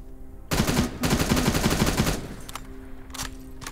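A sustained, loud burst of rapid Uzi fire in the video game Terminator Resistance lasts about a second and a half, followed by a few scattered, quieter shots.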